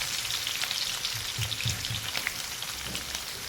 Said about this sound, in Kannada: ಅದರಲ್ಲಿ ಒಂದು 2 ಈರುಳ್ಳಿ ಫ್ರೈ ಮಾಡ್ತಾ ಇದ್ದೇನೆ